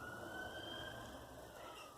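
Emergency vehicle sirens on a highway at night, a faint, distant, steady wail that holds under a quiet background throughout.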